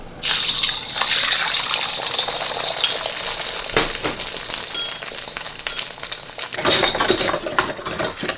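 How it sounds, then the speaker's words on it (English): Beaten egg hits a large hot skillet for a thin egg pancake for japchae, giving a steady loud sizzle and crackle with faint clinks of utensils throughout, no talking. "I'm gonna pour in half the egg, so that's just 1 egg, right?"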